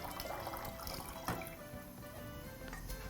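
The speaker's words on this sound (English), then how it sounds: "add some water to your second pot" Water poured into a second cooking pot while preparing Kenyan mukimo with potatoes, a steady close wash of running liquid with one brief clunk midway.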